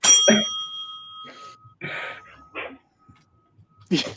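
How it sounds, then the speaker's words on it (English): A bell rings once with a sharp, bright strike and a long ringing tail, followed by scattered voices and brief noises in a quiet room. "The bell delay was kind of funny."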